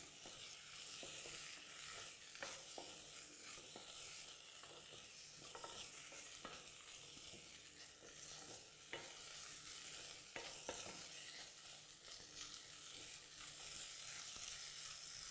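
Green beans sizzle in a hot pan while being stirred, with a steady close frying hiss broken by repeated scraping and clacking of a utensil against the pan, no voices.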